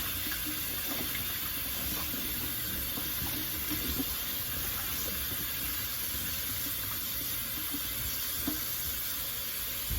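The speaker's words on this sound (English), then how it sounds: "So I'm just gonna fill this up with water." Tap water running into a pot of garden cherry tomatoes, a steady faint rushing stream filling the pot, unbroken and close, with no talk.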